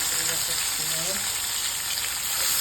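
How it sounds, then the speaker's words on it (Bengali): Chopped onion hitting hot oil for an aar fish curry with gathi kochu gives a loud, dense sizzle that holds steady throughout. "এবার দিলাম পেঁয়াজ কুচি করে রাখা"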